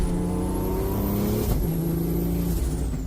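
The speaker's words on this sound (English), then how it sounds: "all that whine usually comes from the gears" Supercharged Toyota Tacoma revving with a high, thin gear whine riding over the engine's steady roar, the pitch rising and then holding.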